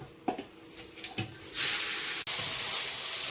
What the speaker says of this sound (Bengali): এবারে মৌরলা মাছটা ভেজে নেব